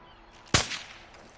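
A single sharp gunshot in a multiplayer shooter video game, loud and close, with a short fading tail against quiet background.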